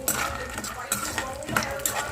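Peanuts stirred while roasting in a kadai, a spoon scraping and rattling the nuts against the metal pan in a few uneven strokes, close and fairly quiet.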